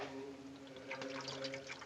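Antiseptic poured from a bottle over a person's hands: a short, soft, steady trickle and splash lasting under two seconds, faint and close.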